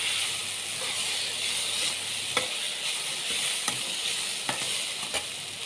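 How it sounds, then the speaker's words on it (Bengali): Tomatoes and a spiced mixture are stirred in a hot frying pan for a bread pakora filling, with a steady broadband sizzle and repeated scraping taps of the spoon against the pan, close and continuous with no talk. "সব কিছু খুব ভালো করে নেড়ে মিশিয়ে নেব।"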